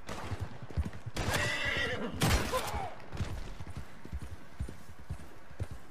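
A horse in the Western game Red Dead Redemption 2 gives two loud, shrill whinnies over hoof clip-clops and busy game sound.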